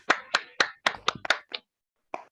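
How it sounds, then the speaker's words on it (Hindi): Students in a class clapping for themselves: a short run of sharp, separate hand claps, close and brisk, trailing off to a single final clap after a pause. "ताली बजाओ खुद के लिए एक बार, चलो फटाफट।"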